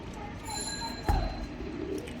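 Domestic pigeons kept for sale, with two young birds nearby, give soft, low cooing close by, with a faint sharp knock midway and a quiet, steady background.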